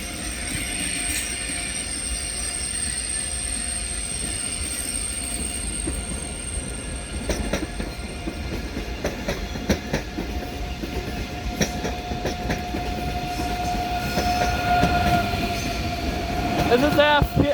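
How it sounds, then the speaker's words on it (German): An ICE high-speed train, number 625 bound for Dortmund, pulls into Munich main station with a steady close rolling rumble, clattering wheels and high metallic squeals that grow louder toward the end. "Einfahrt des ICE 625 nach Dortmund Hauptbahnhof."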